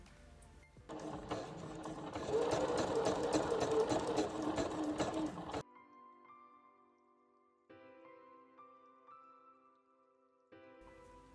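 A sewing machine runs steadily as it stitches a narrow hem on the curved part of a blouse sleeve, loud and close for several seconds, then stops, leaving faint tonal background sounds.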